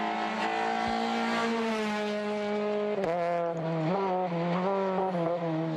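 A Citroen rally car drives a rally stage on the ERC 2013 calendar, its engine note rising and falling through gear changes with a sharp break midway, loud and close with no talking.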